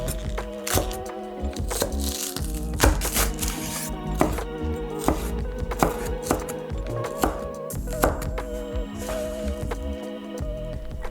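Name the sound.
chopping spring onion with a knife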